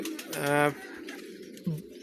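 Fancy pigeons in a loft give a short, loud cooing call early on, with a fainter coo near the end, set against ongoing voices and room noise.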